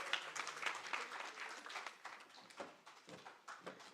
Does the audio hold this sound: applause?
yes